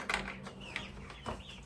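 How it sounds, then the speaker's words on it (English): A rooster clucks and calls a few times at moderate distance, short raspy bursts over a low steady background hum, heard while scrapping a karaoke machine. "There goes the rooster, if you wonder what that noise was."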